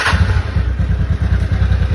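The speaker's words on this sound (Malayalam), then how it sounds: "Engine switch ഓണാക്ക്." A TVS Ntorq 125 scooter engine runs just after an oil change, a close, steady low putter with regular thumping pulses and light mechanical clatter, no voices.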